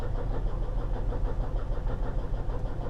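A smoking, low-on-fuel car engine that has just been revved runs close by in a steady, rumbling idle with a slight pulsing rhythm, and no one talks.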